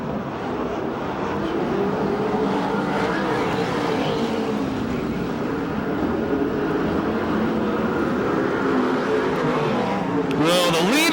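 USAC/CRA sprint cars racing at Perris, California, a continuous loud engine roar with rising and falling pitch as cars pass, with a sharper burst near the end; an announcer talks over it.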